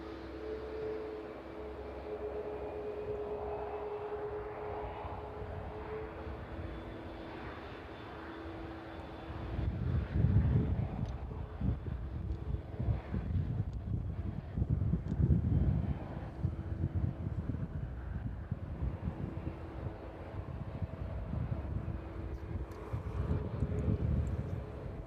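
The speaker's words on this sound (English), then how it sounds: "It's a 737 MAX." A Boeing 737 MAX airliner arriving from Tenerife passes with a low, rumbling engine noise that grows louder partway through and stays steady, heard at a moderate distance with some wind buffeting and no talk.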